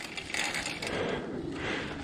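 Metallic rattling from a mountain bike racing downhill at Big Bear bike park, a continuous clattering chatter over rough-trail noise, steady and close for the whole stretch.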